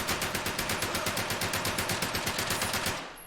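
Rapid automatic fire from an MP40 submachine gun in Medal of Honor: Above and Beyond, a loud, evenly spaced burst of about twenty shots that stops abruptly near the end, no voices.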